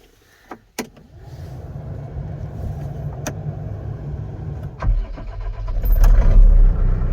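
A New Holland skid steer engine starts and runs steadily after a couple of sharp clicks and clunks, with the idle loud and close and swelling near the end. No voices are heard.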